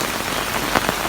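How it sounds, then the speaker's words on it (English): Heavy rain pounding on a Kodiak Canvas 6.5-foot truck bed tent, a dense, close, continuous patter on the canvas with no voices. "it's pissing down the rain, and it's been like this all night"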